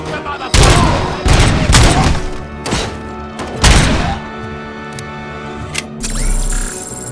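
Gunfire in the video game Robocop: Rogue City: several loud bursts of shots and heavy impacts in clusters, separated by brief lulls, with a mechanical clatter near the end.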